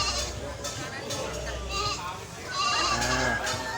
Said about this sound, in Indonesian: Ini pasar kambing ini.